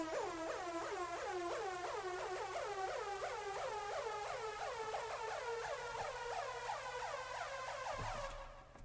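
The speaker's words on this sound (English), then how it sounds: "we've got a separate riser in addition to slightly altered drums" Neurofunk build-up made in FL Studio: a synth riser sweeps steadily upward over a fast, rhythmic pattern of slightly altered, buzzing drum and bass hits, holding loud and dense for about eight seconds before cutting off abruptly at the end.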